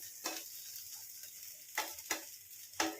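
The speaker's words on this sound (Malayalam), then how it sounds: "ഇച്ചിരി കൂടി ഒന്ന് ഞാൻ ഫ്രൈ ചെയ്തെടുക്കും" Green plantain slices frying with black pepper in a pan over a medium-low flame, a faint steady sizzle broken by a few brief louder bursts, likely from stirring.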